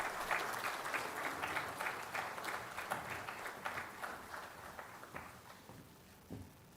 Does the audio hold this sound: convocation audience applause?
yes